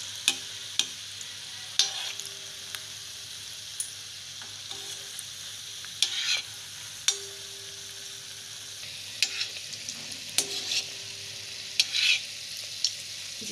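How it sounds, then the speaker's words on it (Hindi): Bread gulab jamun frying in ghee, a soft continuous sizzle with periodic clicks and scrapes of a utensil turning the pieces, close and moderately loud with no talking. "जिस तरह गुलाब जामुन हम लोग तलते खोए का उसी तरह इसको तलेंगे ब्राउन कलर होने तक।"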